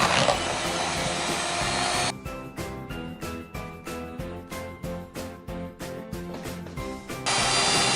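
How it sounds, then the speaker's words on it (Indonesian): Electric mixer whisking cake batter with vanilla until fluffy for putri salju cookies: a loud, steady close whir that turns into rhythmic pulsing thumps midway, then returns to a steady whir. "Kita kocok sampai lembut."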